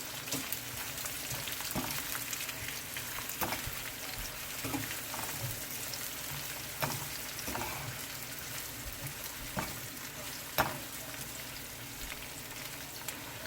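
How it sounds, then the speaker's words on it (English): Onion, pepper and pimento seed sautéing in oil for a Jamaican escovitch sauce, giving a continuous crackling sizzle with scattered pops and stirring clicks, close up and with no voices. "onion, pepper, pimento seed. Just allow this to just saute."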